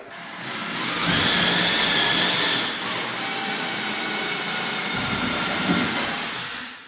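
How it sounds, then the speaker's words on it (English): A power drill grinds steadily into a wall, boring a hole for a lag bolt, a loud continuous whine that rises, holds, and fades with brief variations in load. "Now we're going to drill the other hole and put in a lag bolt."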